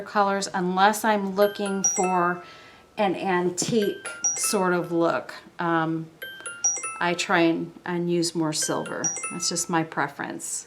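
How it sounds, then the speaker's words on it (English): A mobile phone rings with bright repeated chime tones while someone silvers and glues pieces for a handmade money clip case. The ringing sits under steady close talk throughout. "Sorry about my phone, you guys."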